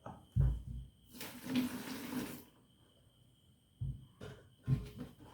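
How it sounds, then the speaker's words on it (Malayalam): Water pours for roughly a second, splashing into a vessel, framed by a few quiet knocks and handling sounds. "കുറച്ച് വെള്ളം ഒഴിക്കുക"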